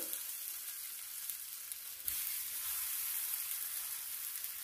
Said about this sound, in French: Puis, je vais les déposer au fur et à mesure.